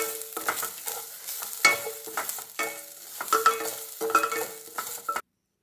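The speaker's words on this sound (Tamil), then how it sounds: "இதோட கொஞ்சம் தேங்காய் போடணும். அப்படியே லேசாக ஒரு கரட்டு, ரொம்ப நேரம் வறுக்க வேணாம்" Grated coconut being lightly roasted and stirred in a dry pan for mushroom gravy, with repeated close scraping strokes and dry rattling in an uneven rhythm, ending abruptly.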